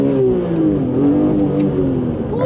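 A car engine revs steadily at close range, its droning pitch rising and falling in smooth sweeps throughout.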